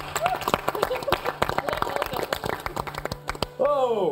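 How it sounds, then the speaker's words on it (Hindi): Audience claps and applauds for India's women's T20 World Cup cricket team, dense irregular clapping running steadily under a speaking host's voice before a brief swell at the end. "एक बार फिर से हो जाए तालियां"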